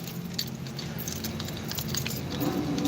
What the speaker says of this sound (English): Too many keys.